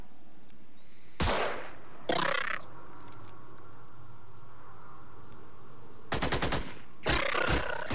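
Gunfire from soldiers in the Xenonauts video game, loud bursts of automatic fire in separate volleys, two early and two later, with quieter game ambience between and no talk.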